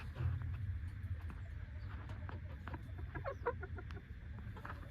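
Double bred Harrow chickens clucking and murmuring in a winter coop, several soft overlapping calls over a low rumbling background, fairly faint and fairly close, no speech.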